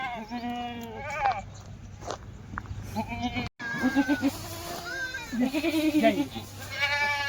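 Kathiawari dairy goats bleat repeatedly at close range, several wavering calls overlapping with people talking among them and a short dropout midway.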